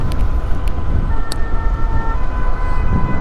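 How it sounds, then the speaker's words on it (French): Fire engine siren wails steadily in the distance under loud, rumbling traffic and wind noise. "les sapeurs-pompiers qui sont dans les bouchons, force à eux"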